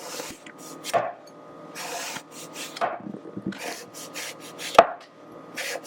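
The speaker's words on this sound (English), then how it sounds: "Then let's slice the eggplant." Eggplant being sliced thin on a cutting board with a sharp knife for ratatouille: several crisp, close chops with soft rubbing strokes between them, irregular in rhythm, no talking.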